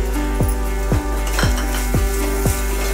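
A spoon scrapes and clinks rhythmically against a pan, five evenly spaced strokes, as cooked cluster bean vegetable is stirred with peanut powder and coriander over a steady low sizzle.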